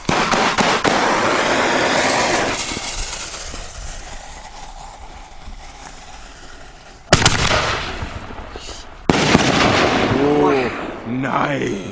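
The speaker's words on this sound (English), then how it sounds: "5-inch beheaded shell Stinger brand fireworks" Stinger brand 5-inch bee headed canister shells burst outdoors in loud, booming explosions with crackling tails, a big report near the start and two more sharp blasts later, as people react and talk between them.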